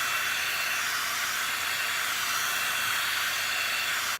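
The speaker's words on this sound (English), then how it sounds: "to speed up the drying process, I just use my blow dryer on Cool Shot on low" A blow dryer on its cool shot, low setting, blows a steady, loud, unbroken hiss close by while drying a face spray, running alone without talk until it cuts off at the end.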